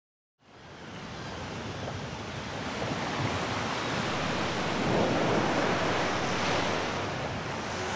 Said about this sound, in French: Mes vagues caressent ces côtes depuis la nuit des temps.